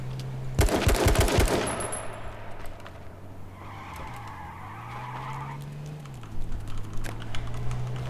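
Rapid bursts of automatic gunfire from the online battle royale game H1Z1 King of the Kill, a dense volley of shots early on followed by quieter game sounds and a few more faint shots near the end.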